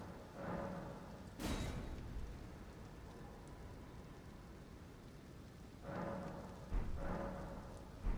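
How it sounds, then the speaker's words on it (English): Steady rain falls in the Elden Ring video game, a constant hiss of drops, broken by a couple of sharp cracking thunder-like bursts and other brief in-game sounds, with no talking. "I mean, it's still pretty rainy."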